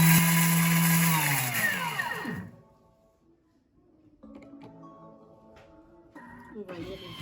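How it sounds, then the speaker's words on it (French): An electric grinder whirs loudly while grinding spices for chebakia, its pitch dropping as it spins down, followed by quieter clicks and handling noises. "Je vais remoudre encore une fois."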